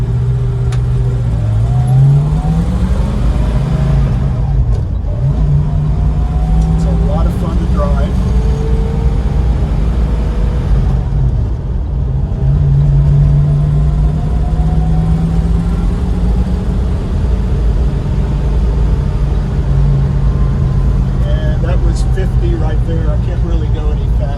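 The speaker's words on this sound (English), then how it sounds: "So I'm just going to bring it to a stop, show you the braking." A car with drum brakes drives along and then brakes to a stop, its engine note loud and close as it rises and falls through several speed changes, with a person talking over it.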